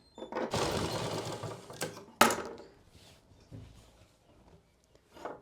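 A sewing machine runs a side seam on straight trousers in one long stitching burst, then stops with a sharp clack, followed by softer handling noises and a brief final rattle, with no talking.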